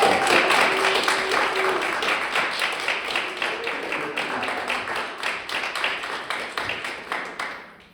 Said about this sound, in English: Give them a little applause.